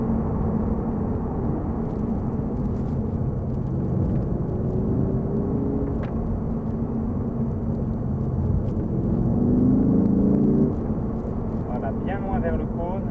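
A Lamborghini Huracán on a coned track brakes and holds fourth gear, its engine a steady low rumble with a rising whine, heard beneath someone talking continuously.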